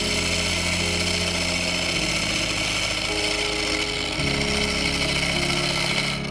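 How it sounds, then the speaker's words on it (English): A power sander runs steadily on a wood-turned bowl, a continuous loud mechanical drone with shifting low hum as pressure and contact change, heard alone without talk. "Into the sander."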